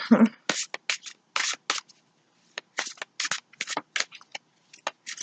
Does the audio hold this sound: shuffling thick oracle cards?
yes